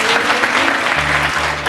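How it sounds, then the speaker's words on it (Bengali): Applause rises from a church congregation at a Palm Sunday gathering, a dense, steady wash of clapping that holds for a moment before a low hum enters near the end. "জোরে করতালি দিন"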